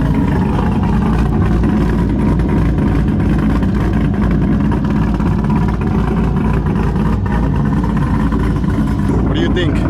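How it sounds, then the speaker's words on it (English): A C5 Corvette fitted with a Texas Speed cam idles with a deep, steady exhaust rumble that stays loud and close throughout, with voices underneath. "Check out that rumble."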